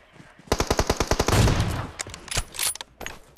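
Gunfire in a shooter video game: a rapid, evenly spaced automatic burst of about a dozen loud shots, then scattered single shots and shorter bursts.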